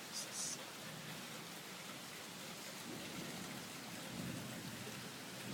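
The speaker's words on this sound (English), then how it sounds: "You guys probably can't see how much it's pouring, but it's really pouring." Heavy, intense rain pouring down during a thunderstorm, a steady, dense hiss of downpour heard close and continuous from start to finish, with no talking.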